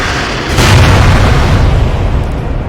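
Artillery shells bursting in the war strategy game World in Conflict, a dense barrage of loud booms that swells sharply after a brief lead-in and rumbles on continuously, heavy low-end thunder with no break.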